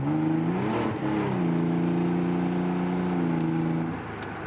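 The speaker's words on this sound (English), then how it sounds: "if I want to speed up a little bit, the car doesn't know what gear to choose" Twin-turbo Nissan 300ZX Fairlady with an automatic transmission accelerating as it hunts for a gear, its engine droning loud and close while the pitch dips and shifts before settling into a steady hum.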